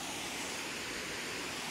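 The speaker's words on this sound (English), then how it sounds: "It's a pretty big waterfall, to be fair." A steady, broad roar of rushing water fills the scene, continuous and even, from the large Black Spout waterfall near Pitlochry, heard from nearby.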